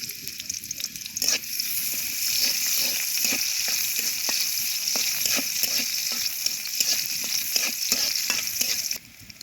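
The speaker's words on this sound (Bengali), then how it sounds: "দিয়ে দিলাম তেল, পেঁয়াজ কুচি" Chopped onions frying in hot oil for a Bengali fish and eggplant curry, a steady loud sizzle broken by regular stirring scrapes and clicks, with no talking.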